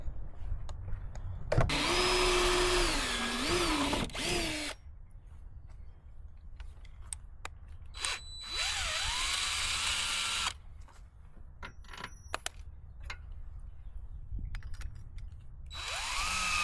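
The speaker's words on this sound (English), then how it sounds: "Two-inch hole saw bit, that's all I need to do." A drill fitted with a two-inch hole saw bit bores through a wall panel during a cargo trailer camper build, whining in several loud bursts separated by quiet pauses, with the pitch dipping and rising as the cut loads.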